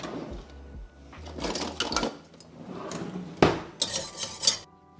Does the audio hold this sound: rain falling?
no